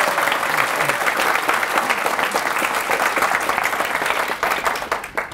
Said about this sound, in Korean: 개발자의 박수 소리는 오피스보다 더 커야 된다고 저는 생각합니다